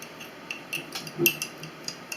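A utensil stirs borax into a glass jar of jelly, giving a few light, irregular clinks and scrapes against the glass, fairly faint and close.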